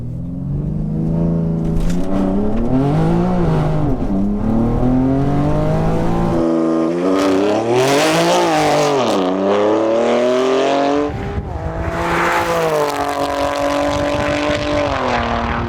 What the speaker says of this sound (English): it is the 840 brake horsepower Stage 2 Plus BMW M3. Let's hear what she sounds like.